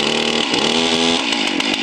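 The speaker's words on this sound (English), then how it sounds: "The chainsaw maybe take 20-30 seconds to warm up." A chainsaw engine warming up runs steadily at a low idle, a loud continuous buzzing drone with no voices.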